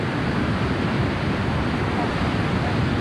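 Sea waves wash onto the beach at Matinhos in 1991 as a steady, broadband roar with wind buffeting the microphone, continuous and fairly loud throughout with no distinct breaks.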